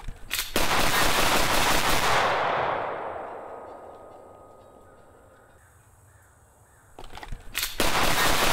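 A SIG M17 pistol fires a rapid string of sharp, loud shots close up, echoing and dying away before another burst of rapid fire.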